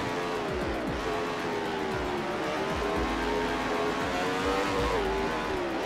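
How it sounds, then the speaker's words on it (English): Thin, tinny race car engine from the PS2 game Total Immersion Racing, steady loud revving with pitch sweeps as gears shift, plus occasional tire noise, no voices. "It has a very tinny engine sound."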